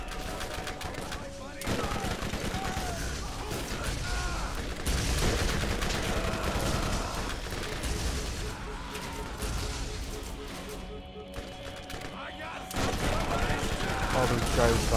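Sustained automatic gunfire from the Borderlands shooter game rattles almost nonstop, loud and dense with bursts layered over each other, while players talk excitedly over the shooting.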